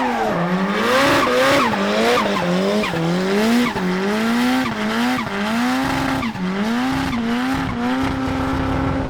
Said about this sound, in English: This is my AE86 drift car.